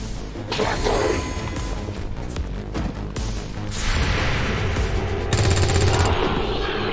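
Gunfire in XCOM 2: War of the Chosen, with repeated loud, harsh cracking bursts and rapid automatic-sounding fire over a dense, rumbling background of combat noise and music.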